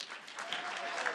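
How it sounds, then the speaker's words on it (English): Conference audience at a sustainability business event briefly clapping and cheering in response to a motion, a dense patter of hands at moderate distance lasting only a moment. "cheer and clap now."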